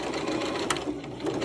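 A sewing machine stitches fabric for Disney-style ears in a quick, continuous mechanical whir at close range, with no voices.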